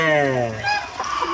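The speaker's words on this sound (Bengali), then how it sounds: "এগুলো যে খামার দেখতেছি যে হাঁস মুরগির খামার" At a poultry farm with chickens and ducks, a couple of loud, nasal, honking calls sound close by, one sliding downward in pitch and another following, with faint background noise.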